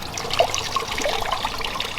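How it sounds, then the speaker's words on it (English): Water trickles and splashes continuously down a renovated garden pond waterfall fed by an Aquascape 12-inch spillway filter, a steady close babble of small cascading streams with no voices. "we've got some water coming down here into this area"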